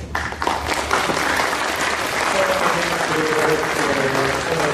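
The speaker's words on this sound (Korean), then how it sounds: "다시 한번 큰 박수를 부탁드리겠습니다." Loud, continuous applause from the audience at a company New Year awards ceremony follows a prize presentation, with faint voices mixed into the clapping.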